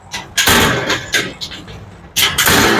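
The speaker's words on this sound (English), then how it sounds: "you can see that you have a stainless steel door here with magnets" A stainless steel outdoor kitchen door with magnetic catches is swung and shut several times, making sharp metallic clacks and thuds in an uneven sequence, loud and close.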